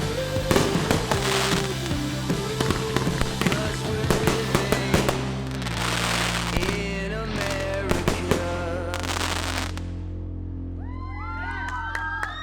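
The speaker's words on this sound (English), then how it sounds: "The neighbors have been putting off an awesome, spectacular show with all their fireworks." Neighborhood fireworks at a Fourth of July family celebration at night: a rapid string of sharp cracks and pops with crackling bursts, cheering and shouting children, ending in fizzing whistles as the bangs fade.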